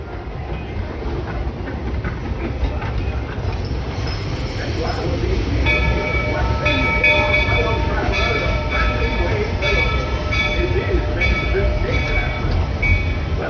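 The Walt Disney World Railroad steam train rolling slowly into Main Street Station at Magic Kingdom, wheels clacking and brakes squealing with rising tonal squeals, voices talking over the noise.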